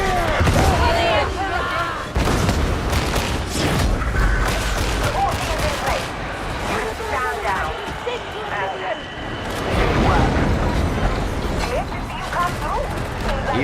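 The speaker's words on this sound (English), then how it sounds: "Throwing grenade." A grenade blast goes off amid the constant din of a Warhammer 40k Darktide firefight, with booming explosions and gunfire rumbling loud and close while voices shout and talk over the chaos.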